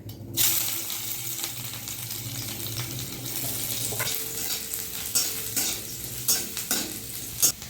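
Chopped ginger and garlic dropped into hot white oil for an egg chop filling, a sudden close sizzle that keeps frying steadily, with intermittent spatula clacks and stirring toward the end.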